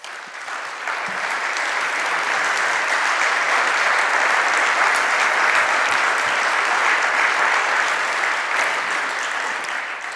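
An audience at a ceremonial academy gives sustained applause, a dense, loud wash of many hands clapping that swells quickly and holds evenly for about ten seconds before easing slightly.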